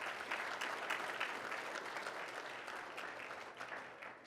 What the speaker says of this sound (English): Coach Cuellar, a round of applause.